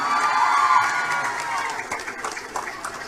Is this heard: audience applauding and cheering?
yes